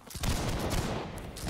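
A massed musket volley in the Napoleonic Wars video game Holdfast: Nations at War erupts as a dense, rolling crackle of many near-simultaneous shots, loud and sustained for about a second.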